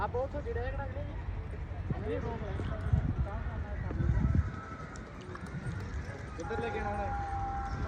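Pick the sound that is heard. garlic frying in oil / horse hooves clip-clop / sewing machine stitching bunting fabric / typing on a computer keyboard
horse hooves clip-clop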